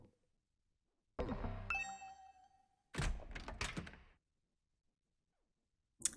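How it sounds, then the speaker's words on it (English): A doorbell in The Hundred Line: Last Defense Academy rings out in repeated bursts, a bright chime with a ringing tone, then a second ragged burst and a short third one, loud and close with silence between. "the sound of my doorbell ringing over and over again"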